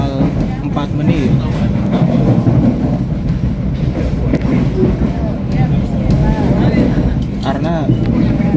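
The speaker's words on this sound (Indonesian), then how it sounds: "Kereta api Manahan tiba di stasiun Cirebon Kejaksan awal 4 menit." The Manahan train rolls into Cirebon Kejaksan station with a steady rumble and clickety-clack of wheels on rail, loud and continuous, while people talk nearby.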